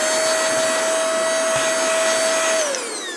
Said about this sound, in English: vacuum cleaner thing as I've gone to keep things tidy